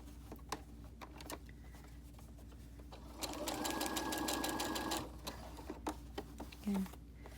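A sewing machine stitches a three-layer pocket mask in a quiet room, running one short steady burst of rapid needle chatter between scattered ticks and handling clicks.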